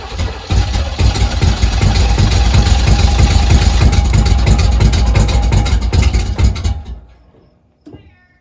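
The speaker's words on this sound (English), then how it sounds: "Try one more, 20 more times until it actually fires up, right?" A 1980 Pontiac Grand Le Mans engine cranks, catches and runs roughly and loudly with rapid uneven firing for about six seconds, then cuts off, followed by a brief faint sound near the end.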